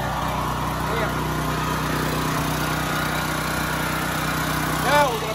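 A Firman 9400 dual fuel generator runs after an electric start, a steady mid-pitched engine drone that fills the whole stretch, with a brief squeak near the end and people talking over it.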